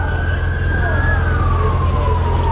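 Police car sirens wail in a long descending sweep over heavy street noise in Las Vegas, loud and continuous as more patrol cars approach.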